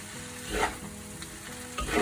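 Carrot, beans and tofu fried rice being stirred in a hot pan, a steady sizzle with scraping stirs coming in short bursts, close and clear with no talk.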